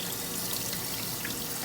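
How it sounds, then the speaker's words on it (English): Cold tap water runs steadily into a very fine rice strainer at a kitchen sink, a continuous close hiss and splash with no talking. "So first I'll start out with the cold water"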